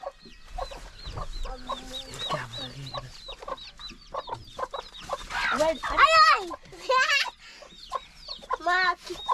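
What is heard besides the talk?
chicken clucking while being held down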